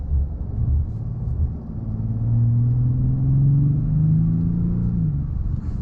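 A 2017 Bentley Continental GT Speed on 21-inch rims accelerates in sport mode, its engine a steady low rumble that swells into a rising drone with shifting tones, heard from inside the cabin with no talking.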